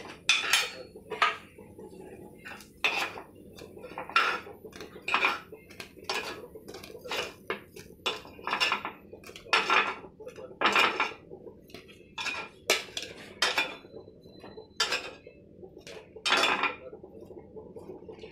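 Cooked mixed dal appe are lifted from a metal appe pan, making repeated sharp clinks and scrapes of utensil on metal in irregular bursts, close and clear, with no speech.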